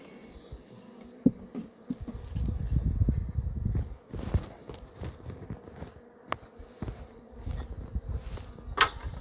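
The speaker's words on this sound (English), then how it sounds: "if you have a look in here, you can actually see the size of the swarm." A caught honey bee swarm hums softly in a box of foundationless frames. The buzzing rises and falls at close range, mixed with scattered knocks and light handling noise.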